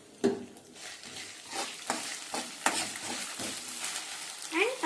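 Salt being stirred into food frying in a pan, with steady sizzling under repeated scraping strokes of a spoon against the pan, close and moderately loud, no talking.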